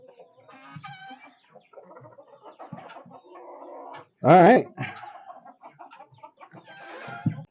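A homestead's main chicken flock clucks and murmurs continuously nearby, with one loud squawking crow-like burst in the middle; a person briefly speaks over the birds.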